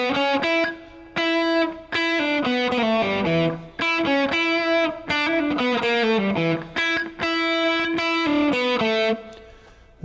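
A distorted electric guitar plays a blues shuffle lick in a steady run of bent and slid single notes with a few short pauses, close and clear with no voices over it.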